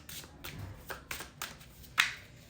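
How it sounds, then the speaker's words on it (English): A tarot card deck being shuffled by hand, a series of short riffling bursts about every half second, close and fairly quiet, with one sharper snap near the end and no talking. "I'm gonna get a few shuffles"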